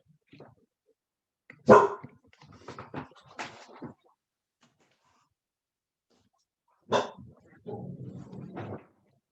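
A pet dog barks indoors in several bursts, loud single barks with quicker trailing yips, then a pause of silence before another bark and a rougher run of vocalizing, close by and with no talk.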